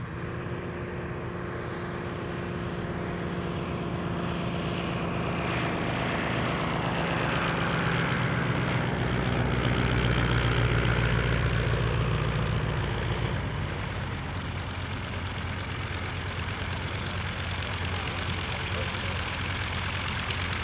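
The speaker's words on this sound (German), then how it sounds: "Diese wunderschöne Fokker E3 hat eine momentane Rolle, aber es geht schon wieder weiter." A Fokker E3 vintage monoplane on a grass airfield at Hahnweide, its propeller engine droning steadily and swelling louder as it nears and rolls, with someone talking over it.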